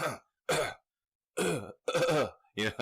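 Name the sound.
imitated cough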